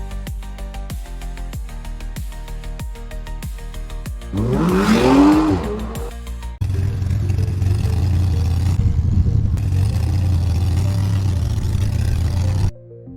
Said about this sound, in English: Search for motorbike ride sound effects.